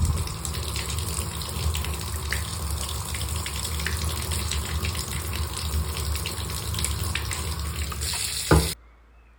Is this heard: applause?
no